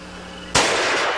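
A single sharp, loud gunshot cracks close by and leaves a broad ringing decay that lasts to the end, with no voices.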